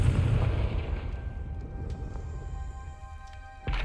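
A Confringo fire spell explodes in the video game Hogwarts Legacy, a deep booming blast that rings out loud at the start and decays into a lingering rumble, with a second thump near the end.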